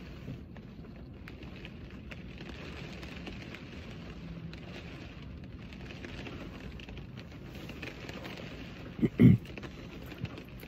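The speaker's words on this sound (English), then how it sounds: "sound of the rain on the roof" Steady rain patters on a car roof, a soft continuous hiss with scattered drops, broken near the end by a brief louder thump.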